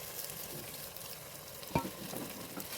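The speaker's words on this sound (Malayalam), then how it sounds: "ഇനി നമുക്കിതിലേക്ക് തക്കാളിയും പച്ചമുളകും ആഡ് ചെയ്ത് കൊടുക്കാം." Tomatoes and green chillies fry in a pan for Kerala-style prawn biryani, a soft steady sizzle with one sharp clank of a utensil near the middle and no speech.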